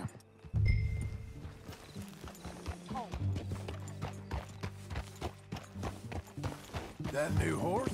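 Horse hooves clip-clop at a steady walking rhythm in Red Dead Redemption 2, with a snort or whinny early on and characters talking over the hoofbeats.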